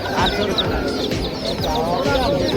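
Several country chickens cluck and chatter close by at a Sunday pet market in Erragadda, overlapping calls with a person's voice faintly mixed in.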